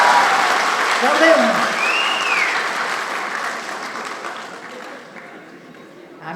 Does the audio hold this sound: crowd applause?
yes